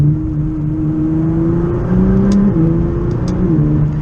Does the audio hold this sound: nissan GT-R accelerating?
yes